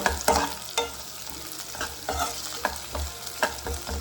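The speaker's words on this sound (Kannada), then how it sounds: "ಚೆನ್ನಾಗಿ ಫ್ರೈ ಆಗಿದೆ" Masala for Afghani egg curry frying in a pan, a close steady sizzle broken by repeated sharp scrapes and taps of a spoon stirring against the pan.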